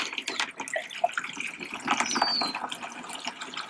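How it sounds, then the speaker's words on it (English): Water is poured slowly through a funnel into a bottle, giving an irregular gurgling trickle with small splashes and drips. The sound is faint and close, with no talking. "we're going to take water and we're going to pour in through the funnel"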